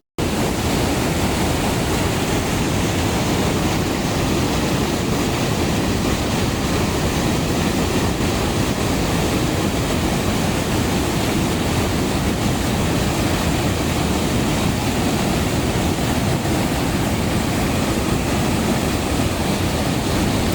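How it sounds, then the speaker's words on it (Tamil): River water crashes and splashes steadily against a nearby rock, a dense, continuous roar of rushing water close to the microphone with no voices over it. "அந்த கல்லில் தண்ணி மோதி எப்படி தண்ணி நல்லா தெரித்து அந்த பக்கம் இந்த பக்கம் நல்லா தெரித்து சுற்றி விழுது பாருங்கள்"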